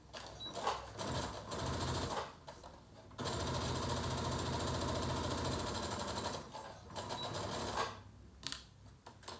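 A sewing machine stitches a zip into a fabric pouch in steady mechanical bursts, one short run and then a longer continuous run, with brief pauses between them.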